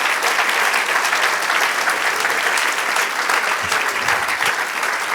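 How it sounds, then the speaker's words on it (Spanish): A church congregation applauding the Lord during a sermon: loud, continuous clapping from a full crowd, steady throughout without letup. "Denle un aplauso al Señor"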